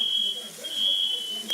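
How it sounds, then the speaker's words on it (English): Smoke alarm sounding in a home kitchen during Thanksgiving cooking, a steady high-pitched electronic tone that runs loud and unbroken through the whole moment, with faint room noise beneath. "My alarm is very, very sensitive."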